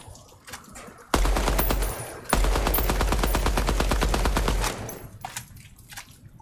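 Rapid automatic gunfire in the Project Moon video game: a dense, loud burst of evenly spaced shots lasting several seconds, briefly broken once, then trailing off into faint scattered sounds.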